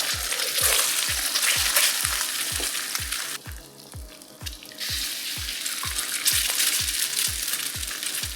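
Eggs fry in a newly seasoned carbon steel wok on an induction cooker, giving a loud, continuous sizzle and crackle up close. A rhythmic low thumping runs beneath it, and the sizzle dips briefly midway before returning at full strength.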